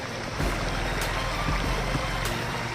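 A sport motorcycle pushes through standing flood water on a street, a steady loud wash of splashing and engine rumble close by, without speech.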